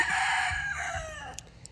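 Chickens and roosters on a farm yard, a busy flock clucking and crowing together up close, with a couple of brief sharper calls standing out near the end.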